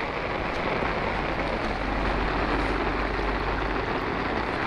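Heavy rain pours steadily onto a boat, a dense, even roar of drops with a low rumble underneath, continuous and loud with no talking.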